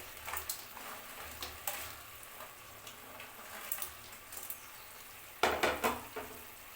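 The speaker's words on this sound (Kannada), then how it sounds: "ಇದಕ್ಕೆ ನಾವು ಫ್ರೈ ಮಾಡಿದ ಪೊಟ್ಯಾಟೋನ ಹಾಕೊಳ್ಳೋಣ" Fried potatoes stirred into a pan of honey chilli sauce, soft sizzling under intermittent scraping and clinking of a spoon against the pan, with a louder cluster of stirring knocks near the end; no talking.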